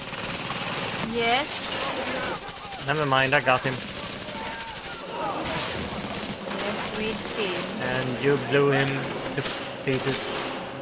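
Rapid bursts of gunfire from the video game Tom Clancy's The Division, set in Grand Central Station, crackle steadily throughout under near-constant voices talking.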